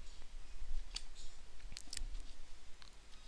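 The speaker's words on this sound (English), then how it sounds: "So just right click on the picture." A computer mouse being right-clicked on a picture while editing in MS Word gives a few sharp, close clicks, spaced apart, in an otherwise quiet room with no talking.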